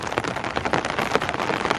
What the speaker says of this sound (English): it's just pouring, you can't move much around